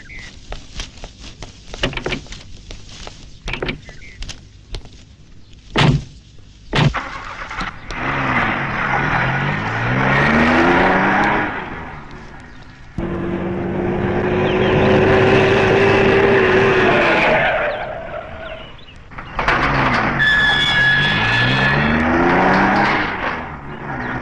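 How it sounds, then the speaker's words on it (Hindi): An old car in a Hindi horror film starts up, its engine rising and revving with loud, swelling roars and a high whine, pausing before another surge as it drives off; no voices over it. "ड्राइवर गाड़ी चालू करो।"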